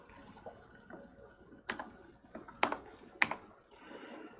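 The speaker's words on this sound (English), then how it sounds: "That was just typing the wrong number." Quiet computer keyboard typing during a live sudoku-solving stream: a few scattered, irregular keystrokes and sharp clicks over a faint background hum.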